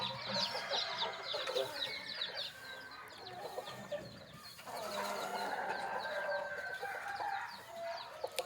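Several chickens cluck and chatter continuously at close range, with overlapping calls and bird chirps filling the background throughout.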